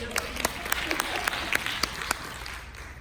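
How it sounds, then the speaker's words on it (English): Scattered audience clapping at a leadership talk, sparse sharp claps over a quiet room murmur with a voice speaking underneath. "You can clap."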